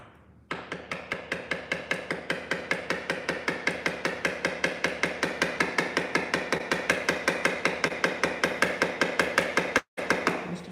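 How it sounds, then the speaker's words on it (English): A part is hammered into a Ducati 996 cylinder head during valve clearance and rocker arm work, a long run of quick, evenly spaced metallic taps, close and crisp, briefly pausing near the end. "But I do need to hammer it in just a tiny bit."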